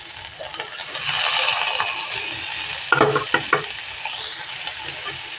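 Boiled taro being stirred in a frying pan, a steady sizzle of frying with spoon scrapes and a few clacking knocks against the pan partway through, close and alone.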